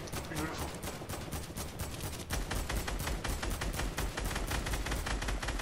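Rapid video game gunfire rattles in dense, continuous bursts, loud and close, with a player talking over the shooting.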